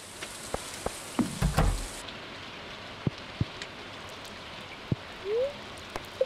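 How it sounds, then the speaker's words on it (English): Rain falling in the Stardew Valley Expanded game, a steady soft patter with scattered louder drops and a brief burst of louder splashing early on, heard alone without talk. "Good morning, and it's raining again."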